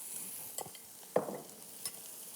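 Vegetables stir-frying very quickly in oil heated as hot as possible, with faint sizzling and a few sharp stirring clatters against the pan, fairly quiet and with no voices.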